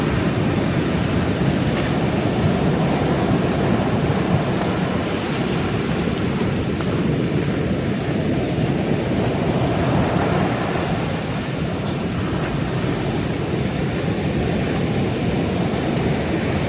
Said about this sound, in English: you can see the mist coming in from the sea as the waves are breaking